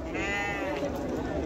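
Medium-sized sheep at a livestock market give a single drawn-out, wavering bleat up close, with market chatter and voices murmuring underneath.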